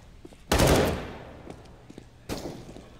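A CS:GO match at IEM Katowice 2019 with a loud gunshot burst ringing out at close range, followed by a quieter second shot a couple of seconds later.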